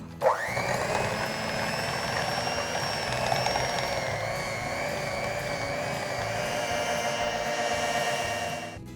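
Electric mixer creaming softened cream cheese with packed brown sugar, starting with a sudden whir and then holding a steady, loud motor drone for several seconds before cutting off.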